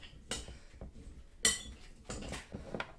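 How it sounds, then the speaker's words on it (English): Metal utensil clinks and scrapes against a bowl while carrots are stirred into a Thai-style shrimp salad, with several short, close clatters spread across the moment. "Put that in there and stir that around."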